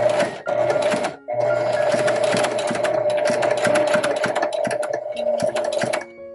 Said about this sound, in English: And then I'm just gonna sew as close to the wire as I can.